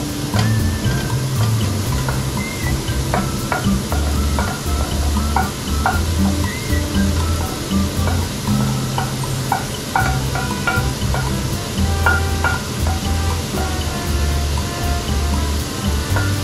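Chopped garlic and a whole onion sizzle and sauté in a hot pan while being stirred, a continuous loud frying hiss with scraping and clinking of the utensil against the pan, for a Filipino-style spaghetti sauce.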